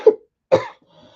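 Two sharp coughs close to the microphone, about half a second apart, followed by a faint breath.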